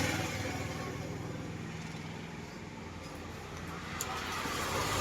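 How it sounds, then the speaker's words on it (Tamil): A vehicle engine, just started on its electric self-starter, idles steadily at a low, even hum, fairly faint and continuous, with no cranking burst audible. "செல்ஃப் போட்டோடனே செல்ஃப் எடுத்துச்சு. வண்டி வந்து ரன்னிங்கில் இருக்குது."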